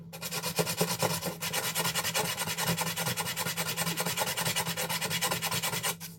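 Filing on the aluminum threads of a custom lightsaber hilt, a continuous raspy rubbing stroke repeated steadily and close up, fairly quiet, with no talk.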